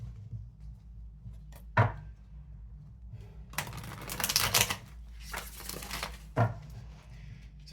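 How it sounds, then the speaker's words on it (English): Crisp riffling and soft slapping bursts of cards being shuffled, a couple of short flicks then longer ruffles, close and fairly quiet with no talking. "Two more shuffles."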